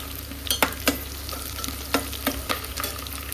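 Onion, green chilli and curry leaves frying in a pan, a close sizzle broken by several sharp scraping stirs of a spoon against the pan.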